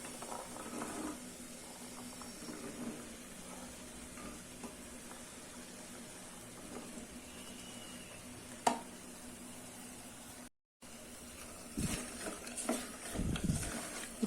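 Mixed vegetables for a kurma sautéing in a cooker, a low continuous sizzle with a few clicks and knocks, a short gap, then louder stirring and scraping near the end.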